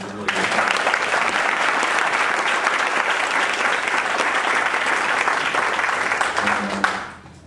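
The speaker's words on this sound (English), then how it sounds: "let's give Matt another big round of applause" A big round of applause from the audience at a tech meetup talk, starting abruptly, holding steady and full, then fading out near the end.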